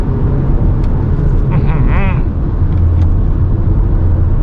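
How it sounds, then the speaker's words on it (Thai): Inside a Haval H6 SUV pushed to full throttle from 100 km/h, a loud, steady engine and road rumble fills the cabin, with a voice briefly audible over it. "ผมจะเหยียบไปนะ 3 2ไป เหยียบเต็มที่เลยนะครับ"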